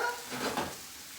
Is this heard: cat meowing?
no